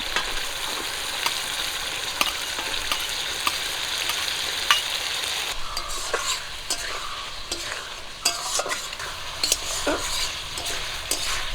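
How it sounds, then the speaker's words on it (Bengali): Soaked koi fish hitting frying masala sizzles loudly and steadily in the pan, with scattered stirring clinks and scrapes over a continuous hiss, no voices. "এই সময় আমি ভিজে রাখা কই মাছগুলো দিয়ে দিচ্ছি"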